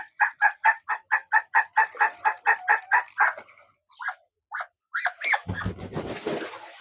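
A chicken recovering after standing in floodwater on a poultry farm clucks in a quick, steady series of loud calls, then a few scattered squawks and a burst of rustling flapping near the end.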